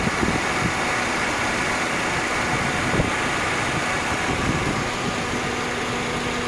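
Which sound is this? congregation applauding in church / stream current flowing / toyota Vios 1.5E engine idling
toyota Vios 1.5E engine idling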